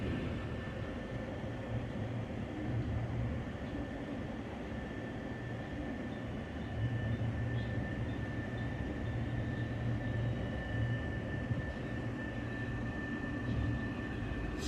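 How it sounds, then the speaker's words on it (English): Amtrak train rolling along, heard as a steady low rumble and hiss from on board with a faint sustained whine and no talking throughout. "That is one big train."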